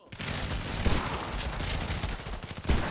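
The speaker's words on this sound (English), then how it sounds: "Island Combat offers you two different types of weapons, an assault rifle and a shotgun." Rapid gunfire from an assault rifle and shotgun in the budget shooter game Island Combat, dense continuous bursts with a couple of heavier blasts, loud and close with no talking.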